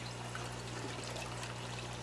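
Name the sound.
pouring vinegar eel culture into a container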